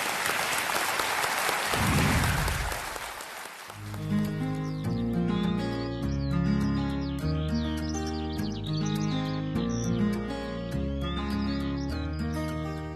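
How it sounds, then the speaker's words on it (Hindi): Studio audience applause welcomes a young contestant on a televised quiz show set, a burst of clapping in the first few seconds before bright, steady theme music takes over and plays loudly to the end. "तालियों के साथ हम आपका स्वागत करते हैं"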